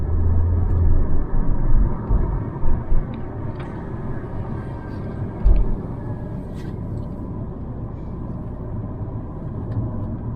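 A car drives along an unpaved dirt road in rural Brazil near Pedras Altas, making a steady low rumble with occasional bumps and knocks.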